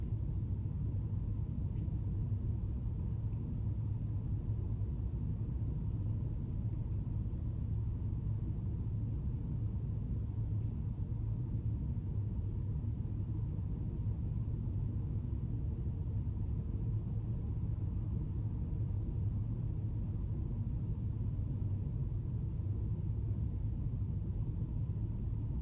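A car drives through a road tunnel in Tröllaskagi, Iceland, with a steady, deep rumbling drone of engine and road noise, unbroken and enclosed.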